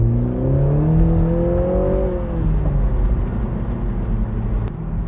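A BMW Z4 20i exhaust revs up and then settles into a deep, steady drone. Engine pitch climbs, then falls back, with a few faint pops and crackles near the end and no voices over it.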